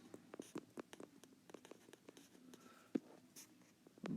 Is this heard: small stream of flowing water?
no